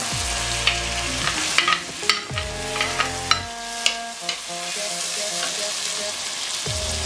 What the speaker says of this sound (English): So right now I'm going to add my tomato.